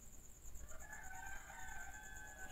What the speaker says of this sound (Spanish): Son gallinas criollas.